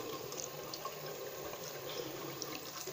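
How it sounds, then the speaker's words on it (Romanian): Water running steadily from a tap for face washing, a soft continuous splashing hiss, faint and unbroken. "Nu cu apă rece mă spăl pentru că mi-e frică."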